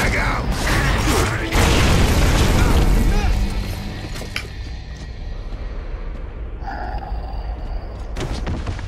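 A frag grenade goes off in the video game Gears of War 2 with a loud, heavy booming blast that rumbles for a few seconds and then fades under game sounds and brief voices.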